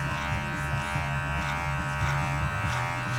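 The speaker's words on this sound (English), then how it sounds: "I'm gonna take a 2 guard and I'm gonna go with the grain and just chop all this down" Electric clippers fitted with a 2 guard buzz steadily and close up while trimming a beard with the grain, a continuous hum with slight pulsing as the blades cut through the hair.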